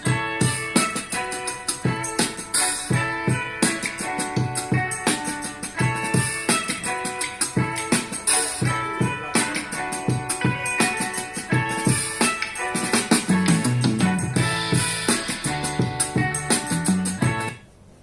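Full-band music with a steady beat and layered instruments plays continuously from a single d-power M200 speaker over Bluetooth at a fairly loud level, then cuts off abruptly at the end.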